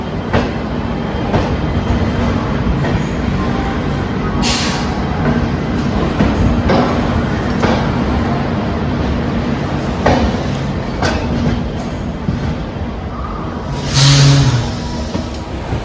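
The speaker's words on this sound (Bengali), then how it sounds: "40418 WDP4D ডিজেল ইঞ্জিন।" A WDP4D diesel locomotive hauling an express train departs, rumbling loudly and continuously, its engine drone and rolling noise filling the whole stretch, with a few sharper clanks and hisses.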